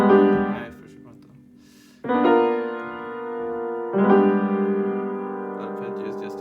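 Jazz chords in open voicings on piano from an arrangement of a jazz standard: three sustained chords struck about two seconds apart, each ringing and slowly decaying, close and clear with no talking.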